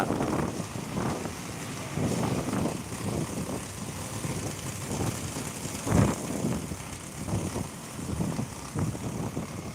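Strong, gusty whirlwind-like wind roars and buffets the microphone continuously, surging in rough bursts with one sharper blast partway through.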